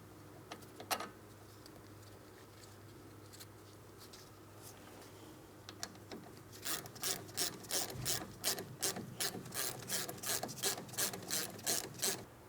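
A banjo bolt on a brake flex hose is threaded into the rear brake caliper of a 2004–2008 Pontiac Grand Prix, with a few scattered metallic clicks first and then a quick run of close, rhythmic ratcheting clicks.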